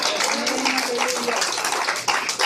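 A church congregation applauds together in a dense, steady patter of clapping, with a voice speaking over it.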